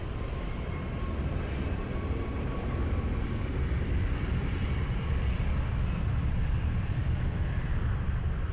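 An airplane takes off at Lisbon Airport, a steady low roaring engine rumble sustained throughout, moderately loud and unbroken, with no talking.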